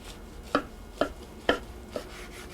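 A knife carves a big, thick slice from a firm, rested meat loaf, landing four crisp, evenly spaced cuts against a board, close and clear with no talking.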